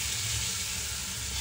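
Garlic and ginger fry on low heat in a pan, giving a steady, soft, continuous sizzle with no talking over it.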